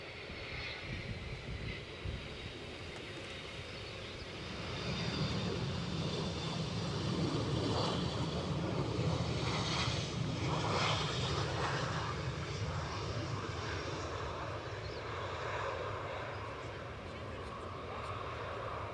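A JetBlue airliner takes off at Edinburgh airport, its engine roar building steadily and holding as a loud, sustained rumble heard from a distance, with faint talk underneath.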